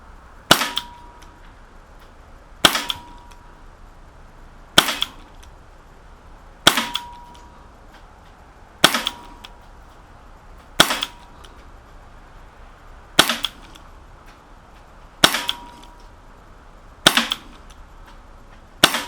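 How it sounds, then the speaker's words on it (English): A KWC Jericho 941 CO2 airsoft pistol fires at a target, nine sharp, close cracks spaced about two seconds apart with quiet pauses between, no talking. "So we're going to shoot right at the bottom of this target."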